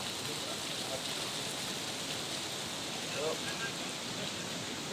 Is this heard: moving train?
no